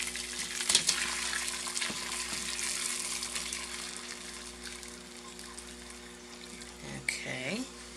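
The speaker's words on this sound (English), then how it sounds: "you want a fine mesh strainer, and you're going to strain this out" Boilo liquid with caraway seeds being poured through a fine mesh strainer, a steady soft pouring and trickling wash with a few clinks of the strainer and pot, ending in a brief louder splash.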